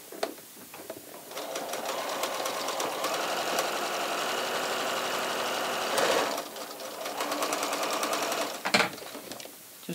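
Sewing machine stitching a stretched knit binding strip onto a V-neckline, a close, steady rapid mechanical whir running in one long burst with a brief pause near the end before restarting.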